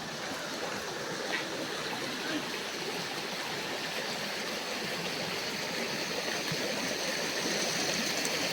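A river in the Philippines flows steadily outdoors, a continuous broadband rush of running water holding an even level throughout, with no clear voices over it.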